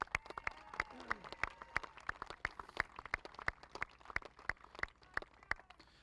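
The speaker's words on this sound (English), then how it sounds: "If we could give him a great round of applause." At the Metzger Open event, a small audience applauds Dr. Craig Mathias with sparse, distinct hand claps in an irregular rhythm. A voice murmurs faintly underneath.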